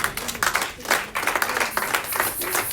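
A church congregation at a Sunday Easter service claps and applauds together, a dense, steady patter of many hands continuing throughout with a few brief dips.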